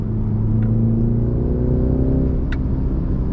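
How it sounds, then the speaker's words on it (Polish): Synthesized engine sound of a Mini Countryman S piped through the cabin speakers, a steady droning rumble with shifting harmonic tones as revs change, loud and continuous inside the car. "Dźwięk silnika z głośników, mam nadzieję, że to słyszycie."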